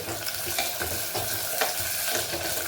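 Eggplant and onions sautéing in oil for an oily brinjal kuzhambu, a dense continuous sizzle broken by a few spoon scrapes as they are stirred, up close and without speech.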